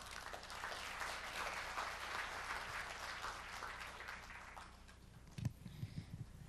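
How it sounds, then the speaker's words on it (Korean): Audience applause at a forestry policy outlook forum in Korea, welcoming the Korea Forest Service director to the stage; fairly faint, steady clapping from a seated crowd fades out, followed by a few handling knocks. "박수로 맞이해 주시기 바랍니다"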